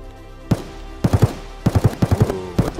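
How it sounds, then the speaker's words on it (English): Gunfire in the video game Escape from Tarkov comes as short bursts of automatic shots: a single round, then several rapid clusters of three to five punchy reports. The shots are fairly close and loud, with no talking. "Ooh, what the fuck are they shooting at though?"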